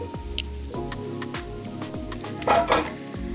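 Washed arbi (taro root) dropped into a cup of hot oil fries with a steady close crackle and repeated soft hissing bursts, some utensil clinks and a louder spitting flare near the end.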